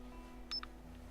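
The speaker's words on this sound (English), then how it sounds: "Mustang picks up his phone, taps a few buttons, and the call connects with a beep." A short electronic beep marks a phone call connecting in the video game Goddess of Victory: Nikke, a quick pair of soft tones heard alone against a faint steady background hum.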